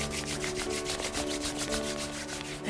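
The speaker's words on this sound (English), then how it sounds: "rub your palms together, creating more heat of gratitude" Palms rubbed briskly together during a meditation, a close rhythmic swishing friction sound repeating steadily throughout with no talk.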